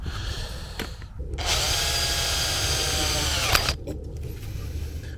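A power drill whines loudly for about two seconds at a steady pitch, then cuts off, with quieter room noise before and after.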